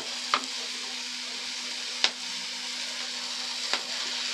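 Marinated Ruli (Amudi) fish for a Bengali fish curry sizzling in hot oil in a frying pan, a steady close hiss broken by three sharp clacks spaced across the span, no talking.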